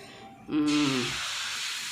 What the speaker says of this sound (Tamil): நல்லா ஒரு கரண்டி எடுத்து ஊற்று ஊற்று ஊற்று